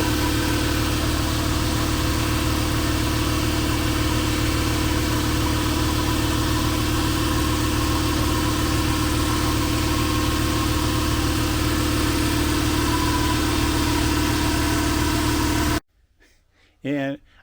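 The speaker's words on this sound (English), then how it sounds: "Right, so here goes the air compressor then." An air compressor powered through a Growatt 3000 inverter runs loud and steady for about sixteen seconds, a constant motor drone with a low hum, then cuts out abruptly, leaving quiet room tone and a short burst of voice.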